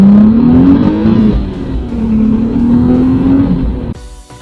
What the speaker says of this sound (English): let's hear the acceleration